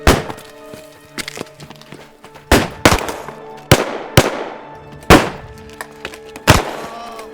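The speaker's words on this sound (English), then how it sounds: "Open fire!" Gunfire in a western film shootout: loud, separate sharp shots ring out one after another with echoing tails, over a low musical drone.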